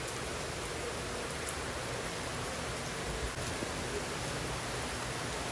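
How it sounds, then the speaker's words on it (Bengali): Heavy rain pours outside in a steady, dense hiss, a constant wash of sound at even loudness with no voices or other noises over it. "ঘুম থেকে উঠেই দেখি বাইরে অনেক বৃষ্টি হচ্ছে।"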